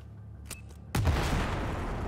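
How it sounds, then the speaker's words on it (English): An explosion is set off in Battlefield 4: after a quiet lead-in with faint clicks, a sudden heavy boom bursts in and trails off into a long, loud rumbling roar. "So are we gonna blow this up?"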